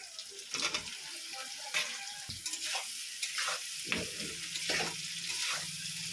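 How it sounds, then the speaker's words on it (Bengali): Fried chicken pieces tossed and stirred in a hot pan for chilli chicken, a steady sizzle broken by repeated scraping and clattering strokes of the spatula, close and moderately loud with no talking. "ভাজা চিকেনগুলো আমি দিয়ে দিচ্ছি।"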